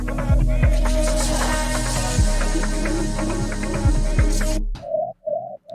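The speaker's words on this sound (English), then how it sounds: "Kind of sounded like a cool wind effect." A wind-like sound effect rises as a broad airy wash over a break beat with steady thumping kicks and snare hits, ending abruptly before a few short hums.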